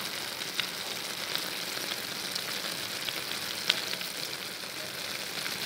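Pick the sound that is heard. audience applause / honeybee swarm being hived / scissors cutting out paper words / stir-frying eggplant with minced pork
stir-frying eggplant with minced pork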